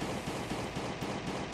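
Dense, continuous gunfire in a video game, a steady rattling barrage like automatic weapons firing close by for the whole moment, with no talk over it.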